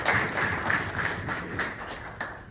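Audience applause at a reception honoring Haq Sahib, a steady patter of clapping from a modest crowd, moderately loud and continuous over the whole stretch with a few sharper claps standing out.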